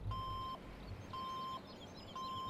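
Three evenly spaced electronic reversing beeps from a Caterpillar CB32 tandem roller in Farming Simulator 2017, each tone about half a second long over a low engine rumble.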